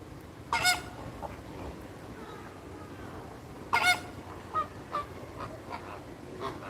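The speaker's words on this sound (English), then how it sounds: "We got 3 ducks coming over." Waterfowl flying over at an outdoor wildlife overlook in Florida give two short bursts of honking calls, faint and distant over steady background noise, with a few softer calls trailing after.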